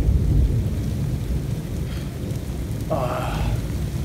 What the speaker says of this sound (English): This rain's getting worse.